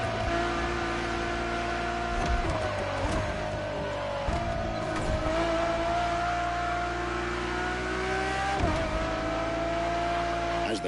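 A Ferrari Enzo supercar engine in The Crew Motorfest drones at a steady, loud pitch throughout, with a few shifts in revs and a sustained, close tone.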